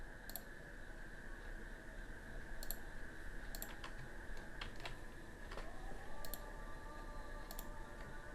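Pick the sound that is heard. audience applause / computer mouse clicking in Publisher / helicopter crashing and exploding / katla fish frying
computer mouse clicking in Publisher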